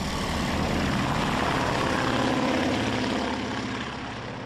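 A vintage Junkers aircraft in flight, its engines droning in a loud, continuous, dense roar throughout that eases slightly at the end, heard from close by inside the plane, with no talking.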